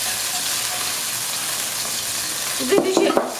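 Steady, hissing sizzle of ham frying in hot oil, with a few brief clatters and scrapes near the end as pieces are moved in the pan.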